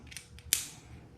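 Fasteners on a Kawasaki Vulcan VN1700 motorcycle fairing are tightened, a few faint clicks followed by one sharper metallic click up close, then quiet.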